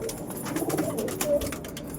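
Lakka pigeons cooing softly at a pigeon house as a pair is let go, faint, low, repeated calls with light rustling and no talking.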